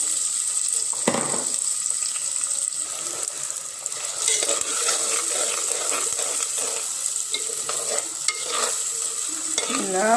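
Onions frying in hot oil in a clay pot for a village-style fish curry, a loud continuous sizzle close up with scattered spatula scrapes and stirs throughout and no talking.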